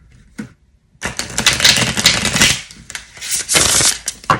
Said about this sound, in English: I feel like shuffling one more before I pull you the cards.